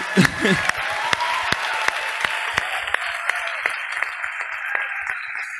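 A crowd applauds at the Nordic Game Awards, a broad wash of clapping with some sharp, distinct claps standing out close by, opening under a brief voice.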